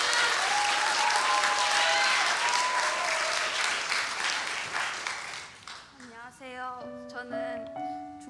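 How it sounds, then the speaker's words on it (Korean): A congregation at a Friday church prayer service claps warmly to welcome a student speaker; dense applause fills the first several seconds, then fades as keyboard or organ notes rise and sustain alongside it. "큰 박수로 환영해 주시기 바랍니다."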